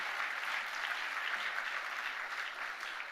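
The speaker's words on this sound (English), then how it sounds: "Let's clap it up for them." Audience at a Children's Aid benefit gala clapping for a group, a soft, continuous wash of applause heard from some distance, steady throughout without pause.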